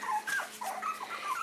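Apricot miniature poodle puppies about three and a half weeks old whimper in a run of thin, rising and falling high whines, close and continuous with no talking.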